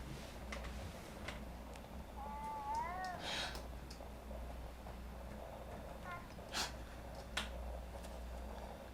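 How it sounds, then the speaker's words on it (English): A short, wavering meow-like call, like an agitated cat, rises and falls twice in a quiet room with low background hum, followed later by a fainter repeat and a few scattered clicks and taps. "that sounded like a cat that was mad"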